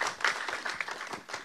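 A brief burst of audience applause at a trailer launch event, a dense patter of many hands clapping at moderate loudness.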